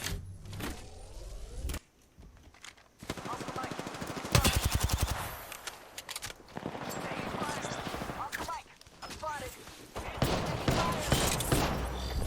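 Rapid automatic gunfire and bursts of shots from the battle royale video game Apex Legends in arena mode, loud and dense with brief pauses, mixed with game sound effects and a player's voice.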